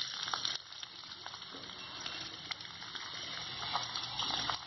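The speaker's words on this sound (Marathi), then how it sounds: "आपला कांदा आणि मिरची जी आहे ती फोडणीला घालून आपण हे करत ठेवूया, ते भाजत ठेवूया" Onion and green chili frying in hot oil with no other tempering spices, giving a steady, continuous sizzle and hiss at close range throughout, with no voices.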